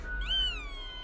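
A cat in the video game Death and Taxes gives a single rising then slowly falling meow, clear and fairly quiet over a low steady hum.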